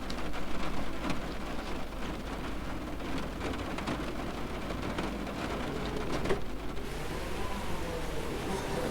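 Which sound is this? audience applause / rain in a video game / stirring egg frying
rain in a video game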